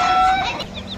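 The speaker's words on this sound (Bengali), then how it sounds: "আর মুরগি খালি সারাদিন ডিম পারে আর খালি কয় কক কক কক কক।" An egg-laying hen on a Bangladeshi village homestead gives a short, fairly loud, close burst of clucking calls with a few quick tonal notes, and nobody speaks.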